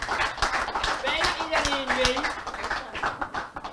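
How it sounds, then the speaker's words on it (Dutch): Audience applause at a certificate ceremony, a steady patter of many hands clapping close by throughout, with a voice talking over part of it. "Nog een echte applaus voor deze jongens."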